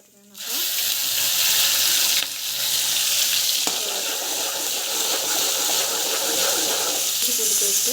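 Mustard seeds, cumin and biryani spices hit hot oil in a kadai with a sudden loud sizzle that carries on as a steady, crackling fry close by.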